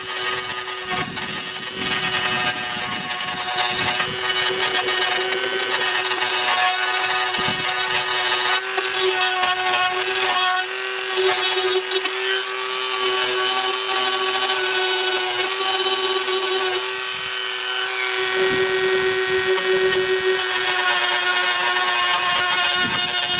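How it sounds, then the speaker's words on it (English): A Dremel rotary tool smooths a plastic surface on a Craftsman lawnmower hood, whining steadily at high pitch with grinding rasps as it bears on the plastic, running continuously and close without talk. "smooth up this surface right here and right here with a Dremel tool"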